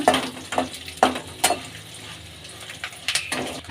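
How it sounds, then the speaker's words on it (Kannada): Byadgi red chillies frying in hot oil for a cabbage palya give a soft, steady sizzle, broken by a few sharp clinks of a spoon against the pan. "ಮೆಣಸಿನ್ಕಾಯಿ ಕೆಂಪಾಳ ಹುರ್ಕೊಳ್ಳೋಣ."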